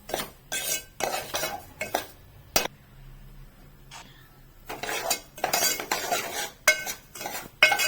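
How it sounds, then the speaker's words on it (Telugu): A spoon repeatedly scrapes and clinks against a metal pan while a dry rava laddu mixture is stirred, in bursts of rapid close-up stirring separated by a short pause. "ఇలా కలుపుకుంటూ ఉండాలమ్మా, లేకపోతే మాడిపోద్ది"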